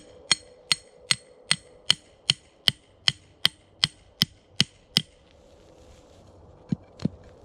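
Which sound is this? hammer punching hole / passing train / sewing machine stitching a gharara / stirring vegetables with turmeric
hammer punching hole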